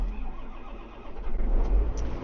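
A farm tractor engine starts and idles with a low, rumbling throb that swells a little louder toward the end, heard alone and fairly close.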